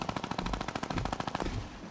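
Rapid automatic gunfire from a new weapon in Fortnite, a steady burst of evenly spaced shots for about a second and a half before trailing off, moderately loud with no talking.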